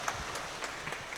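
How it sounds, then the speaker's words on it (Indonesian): Faint, scattered clapping from a small workshop audience in a hotel room, a few soft hand claps over low background noise. "kita berikan aplaus tepuk tangan kepada Ibu siapa?"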